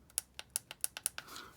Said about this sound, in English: when you're playing it, you'll know the clicking